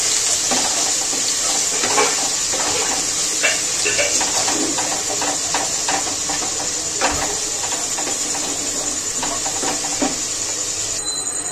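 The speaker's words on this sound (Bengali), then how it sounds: "গরম তেলের মধ্যে দিয়ে দেব রসুন বাটা, নেড়ে ছেড়ে ভেজে নেব রসুনটাকে।" Garlic paste frying in hot oil for chicken pulao, a continuous bright hiss with scattered stirring clicks, close and steady, with faint voice in the background.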